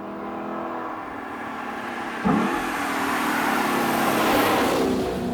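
A Lexus LC500's V8 engine idles with a deep rumble, then roars as it revs up and the pitch climbs, staying loud and close.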